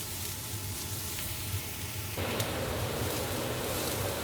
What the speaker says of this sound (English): Then you add in the chopped garlic. And we lightly brown the garlic.